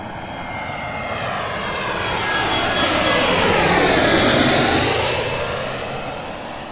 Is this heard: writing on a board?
no